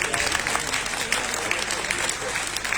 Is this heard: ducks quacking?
no